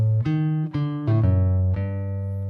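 A short guitar phrase from measure 8 is played with quick pull-offs, a run of clean single notes with tight snapping transitions and a final low note left ringing, no talking over it.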